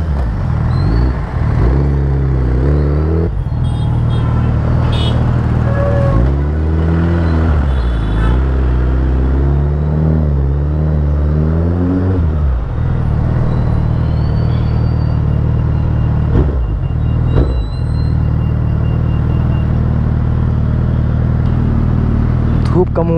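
A Suzuki Hayabusa motorcycle engine rumbles steadily up close, its pitch swinging up and down through several revs. Continuous road and wind noise runs underneath.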